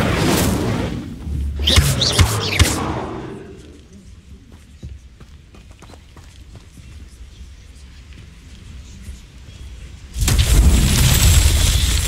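Incendio fire spell in the video game Hogwarts Legacy, a loud booming blast with crackling burst at the start and another heavy rushing blast near the end, quieter game ambience between.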